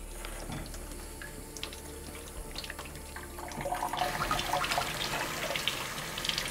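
Water runs from a tap while a dug-up fossil is being washed, a steady splashing hiss that grows fuller and louder partway through, close and without talk.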